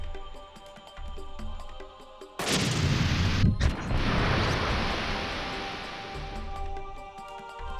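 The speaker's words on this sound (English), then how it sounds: "I can still shoot this tree for no good reason." A tree shot and exploding in the mecha game Front Mission 3: a sudden loud blast cuts in after quieter game sounds, followed by a sustained rumbling roar that slowly fades.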